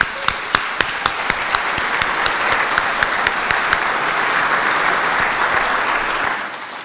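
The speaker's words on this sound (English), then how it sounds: "let's give a round of applause to the 913th" Audience applause fills a Reagan Dinner hall in Obion County, a dense steady clatter of many hands lasting several seconds, with a sharp regular tapping beat on top, then fading at the end.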